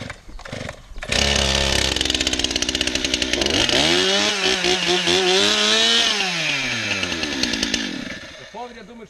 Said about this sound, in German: das ist meine Säge, die kann nicht so viel hochjagen wie ich will,